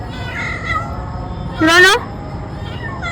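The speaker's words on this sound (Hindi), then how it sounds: "Why is the other cat crying?" A cat cries with a single loud, drawn-out meow that rises above a voice calling out nearby, set against a steady background hum.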